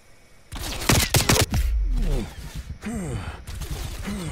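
A short burst of rapid gunfire on the Nuketown 84 map in Call of Duty, loud and close around the one-second mark, followed by someone talking.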